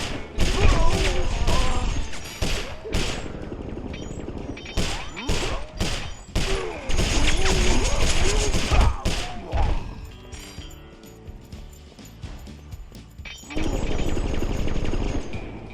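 Gunfire in the video game Sly Cooper: Thieves in Time. Rapid sharp shots and thuds in dense bursts give way to quieter stretches, all mixed with game music and effects, with a voice talking over parts.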